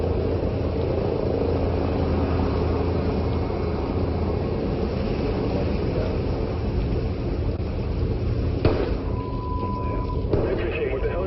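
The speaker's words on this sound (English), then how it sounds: "Helicopter pulling out from your location." A helicopter in a video game drones with a steady, broad engine and rotor rumble that holds throughout, with a voice speaking over it and a couple of brief sharp sounds near the end.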